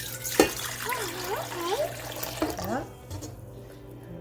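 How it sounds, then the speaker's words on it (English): Warm water is poured into a mixing bowl for bread dough in a home kitchen, a soft trickling splash heard beneath a child's chatter and an adult's brief reply. "first we're going to take our warm water and pour that in"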